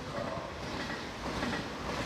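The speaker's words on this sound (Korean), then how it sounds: "이른 아침 기차역입니다." A train station in Daegu early in the morning, with the steady rumble and clatter of a train on the rails throughout, fairly loud and continuous, with no voices.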